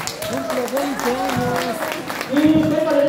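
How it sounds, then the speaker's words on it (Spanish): Guests at an adult birthday party with clowns applaud the man being celebrated, a modest burst of clapping under an MC's loud amplified voice. "Fuerte los aplausos al festejado, que escuchen los aplausos"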